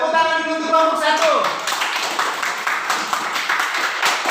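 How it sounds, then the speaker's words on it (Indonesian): A classroom group of students claps for a presenting team, a brisk burst of hand claps rising after a spoken line and continuing to the end, with voices mixed in. "Tepuk tangan dulu untuk kelompok 1."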